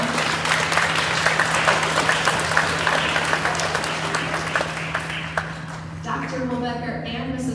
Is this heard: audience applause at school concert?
yes